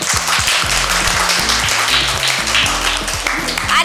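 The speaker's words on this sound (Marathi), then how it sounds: "गिरवी PHC जोरदार टाळ्या" A crowd applauds the Girvi PHC team at a health-worker quiz contest, with dense, sustained clapping that fills the whole stretch, loud and close, and a thumping music beat running underneath.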